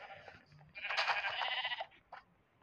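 A Minecraft sheep lets out one clear, fairly close bleat of about a second, framed by softer game sounds before and after.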